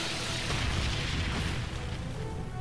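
Brionac cannon firing in the video game Trails of Cold Steel 3, a sustained roaring blast of broadband rumble and noise holding loud and steady for a few seconds.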